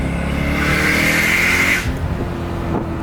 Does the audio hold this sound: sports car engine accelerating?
yes